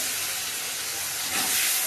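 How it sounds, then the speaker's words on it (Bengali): Onions fry in a pan with a close, bright sizzling hiss that swells louder near the end. "পেঁয়াজ লাল লাল ভাজা হয়ে গেছে,"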